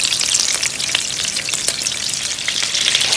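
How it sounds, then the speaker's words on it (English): Turkey meatballs fry in a pan, giving a loud, close, steady sizzle with crackling pops and no talking. "You want to leave them alone once you put them in the pan"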